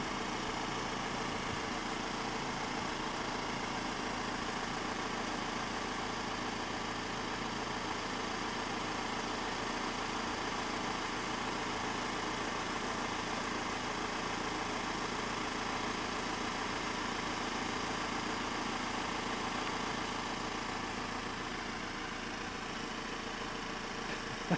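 A parked car's engine idles steadily and continuously, a low, even drone that holds at a constant level throughout with no talking.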